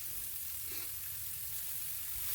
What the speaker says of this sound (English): I added here another tablespoon of olive oil, and I'm going to start adding our onions.